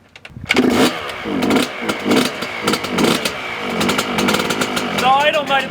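A rebuilt two-stroke engine with a freshly cleaned carburetor sputters to life and runs roughly. It revs in loud, uneven bursts close by with a raspy buzz, and a voice can be heard briefly.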